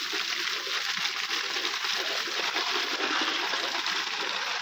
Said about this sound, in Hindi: शेर के मुँह में से किस तरीके से पानी निकलना है